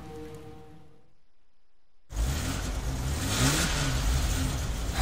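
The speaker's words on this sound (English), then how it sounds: "Turn the key to start the engine." Car engine in the PS2 horror game Siren falls quiet, then catches and starts abruptly, settling into a loud, rising revving roar close by that continues to the end.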